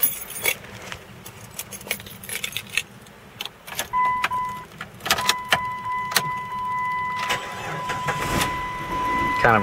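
A car engine being started from ultracapacitors at about 12 volts cranks with a labored, uneven start and catches into a running idle, with clicks and metallic rattles around it and a faint tonal whine, close by and without speech.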